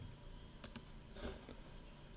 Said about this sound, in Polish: Klikam na parametry maszyny, wybieram piny